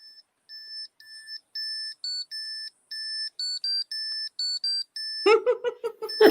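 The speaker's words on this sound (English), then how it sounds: "So if something touches her, she plays a tune." A REM pod EMF detector at Beattie Manor plays a tune of short, bright electronic beeps in a rhythmic stepping pattern, loud and clean, then stops as voices begin talking near the end.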